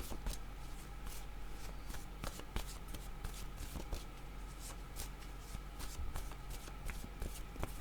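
Oracle word cards riffled and shuffled by hand in rapid dense bursts of papery flicks and taps, close and steady throughout.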